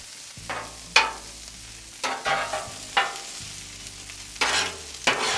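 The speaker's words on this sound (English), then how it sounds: "I'm going to mix it. Mix the rice." Steak fried rice with frozen peas being stirred in a hot pan, with a spatula scraping in repeated strokes about once a second over a soft, steady sizzle.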